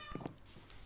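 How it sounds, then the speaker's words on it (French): A real house cat gives two short, quiet meows in quick succession, close by, followed by faint room noise, with no talking. "ça c'est pas un chat de Minecraft, c'est un chat dans la vraie vie"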